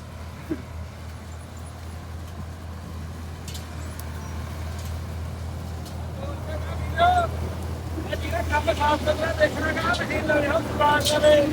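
A Swaraj tractor and a Swaraj combine harvester run in a wheat field during harvest. A steady low engine drone continues throughout, and a busier, rattling mechanical layer builds in the last few seconds.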